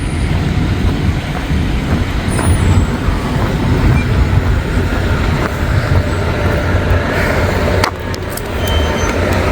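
CSX freight train M560 rumbling past nearby, a steady loud broadband roar of rolling cars and wheels that holds throughout without a break.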